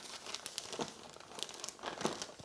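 A plastic bag is handled while a wheelchair is unpacked, giving a steady run of close, crisp crinkles and rustles with louder surges throughout and no talk.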